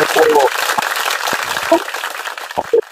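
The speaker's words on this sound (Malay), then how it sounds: "Sila. tepuk tangan sikit." A live audience breaks into applause, a burst of clapping that thins into scattered claps and a few isolated hand claps, with a host's voice speaking briefly over it.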